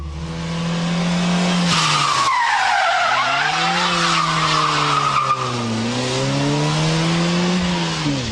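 A front-wheel-drive car drifts with loud, sustained tyre squeal and skidding, its engine note rising and falling underneath, close and continuous without speech.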